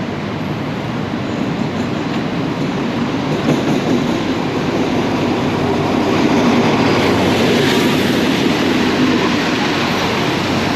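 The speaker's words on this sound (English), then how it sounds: "the old train running there, the new trains running here" An old train arrives at Makkasan Station in Bangkok, a loud continuous rumbling roar of wheels and carriages that holds steady and swells slightly as it passes close by.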